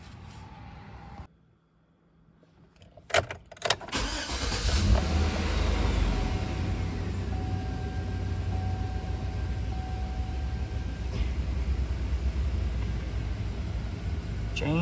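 A 2013 Chevy Tahoe engine cranks briefly, catches and starts, then settles into a steady, close idle with a faint high whine running over the low rumble.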